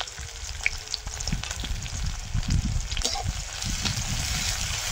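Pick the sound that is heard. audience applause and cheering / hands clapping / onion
onion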